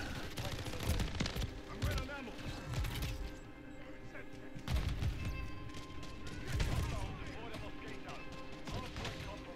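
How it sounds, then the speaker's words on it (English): Pistol shots ring out in a video game sniping match, several sharp cracks scattered over busy, rumbling game ambience at moderate volume, with some faint voice-like sound mixed in. "There's the pistol again."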